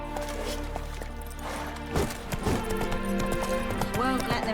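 A horse galloping in The Witcher 3: Hearts of Stone, with steady rhythmic hoofbeats close by under a continuous bed of game ambience and music.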